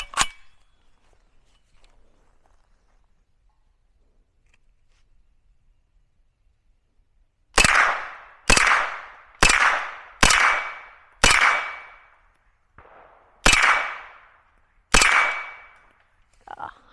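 Kalashnikov USA KR9 shots ring off steel targets at an outdoor range, firing eight sharp cracks in a quick, uneven series after a long quiet stretch, each one followed by a brief metallic ping.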